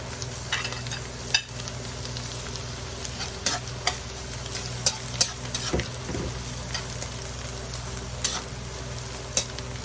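Garlic and then onion sizzle steadily over low heat in a pan for carbonara, a continuous close frying hiss broken by occasional sharp scrapes and taps of a utensil as it is stirred, with no talking.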